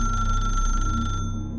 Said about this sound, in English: no dial tone and no service, but yet it rang, like an old-fashioned bell